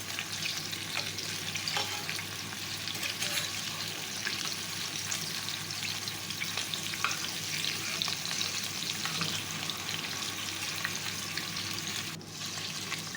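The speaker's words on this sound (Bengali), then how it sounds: "এইভাবেই একটু চেপে চেপে ফ্রাই করে নেবেন" Chicken tawa kebabs fry in oil on a flat pan while being pressed down, producing a soft, steady, continuous sizzle with faint crackles and no talking.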